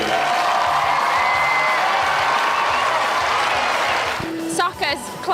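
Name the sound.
crowd applauding referees at soccer event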